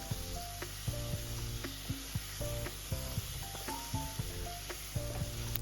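Tomatoes sizzle in a pan of chicken biryani masala while being stirred, a constant soft fry punctuated by regular spoon clicks and scrapes over quiet background music.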